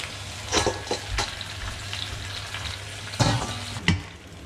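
Sand crabs sizzle and fry in a hot pan, with a steady crackle broken by several louder bursts as they are stirred and tossed, close and alone with no talk.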